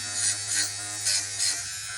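An electric fabric defuzzer buzzes as it zaps yarn loops on a Cabbage Patch Kid doll's hair, a steady close motor whine that swells in four brief pulses as loops are drawn in.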